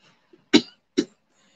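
Two sharp coughs about half a second apart, close and fairly loud, with a faint throat sound just before and quiet afterward.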